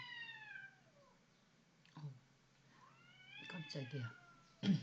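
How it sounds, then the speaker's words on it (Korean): A cat meows several times close behind a speaker, with rising and falling cries spread through the moment and a startled exclamation in Korean near the end. "뒤에서 고양이가 갑자기 막 울어대가지고"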